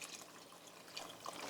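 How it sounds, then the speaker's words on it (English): Vegetable and chicken stock poured into a soup pan after deglazing, a soft steady liquid splash and trickle that swells slightly near the end, heard alone at low level. "Once I've deglazed the pan, I'll go ahead and pour the rest of my stock in."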